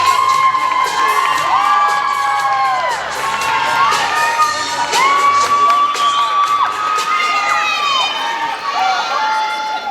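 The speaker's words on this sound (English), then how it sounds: "Please put your hands together for 411," A crowd cheers, whoops and shouts loudly and without a break for a children's contemporary dance group of age-11 performers, with high excited voices.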